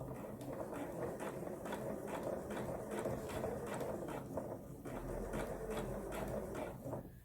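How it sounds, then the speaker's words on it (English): A sewing machine stitches fabric for a collar or cuff corner, a quiet, rapid, rhythmic whirring patter that runs continuously at low level. "So I'm going to put this under the machine and start sewing towards the point where I want to turn"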